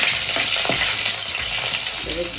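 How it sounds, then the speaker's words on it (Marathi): Garlic tempering sizzles loudly in hot oil in a pan, a steady broadband crackle with a few stirring scrapes, close and continuous, with no talking. "पुढे आता लसूण फोडणी द्यायची"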